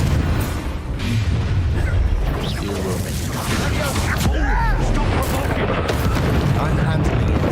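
A fiery Incendio spell blast in Hogwarts Legacy, a loud, dense rumbling roar of fire and booming impacts that runs throughout, with voices of game characters mixed in.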